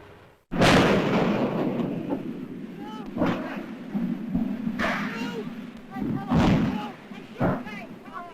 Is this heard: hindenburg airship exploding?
yes